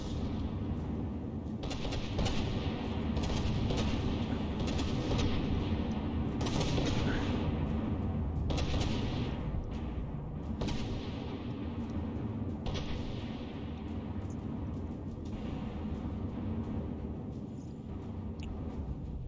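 Naval turrets on a battleship fire in a video game, heard as a continuous low rumble broken by repeated heavy booming shots at a moderate level, with no speech.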